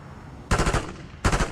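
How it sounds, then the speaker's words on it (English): Two short bursts of rapid automatic gunfire in Black Ops 6, loud and close, separated by a brief pause, with no talking. "Ooh, gunshots."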